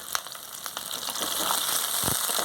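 Small onions and dried red chillies frying in a pan for kathirikai gothsu, a steady close sizzle with crackles and spits that builds slightly louder, no talking.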